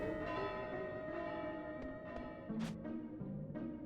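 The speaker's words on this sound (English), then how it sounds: "I rang the bell." Ringing of a bell in the video game Final Fantasy IX: a sustained, resonant bell tone with several softer strikes layered over game music, moderately loud and without talk.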